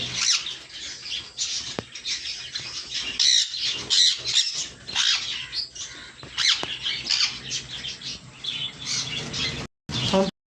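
Sun conures squawking in shrill, sharp bursts, several birds calling over one another close by at an irregular rhythm, with brief pauses and a short silence near the end.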